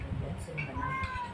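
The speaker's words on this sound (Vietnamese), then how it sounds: "Mèo." A house cat meows in a home kitchen while pork and duck eggs are being braised, several short meows rising over steady background noise and nearby household talk.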